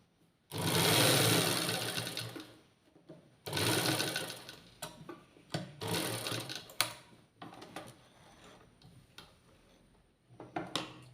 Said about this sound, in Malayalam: അതുപോലെ തന്നെ ഈ സൈഡിൽ തയ്ക്കുക.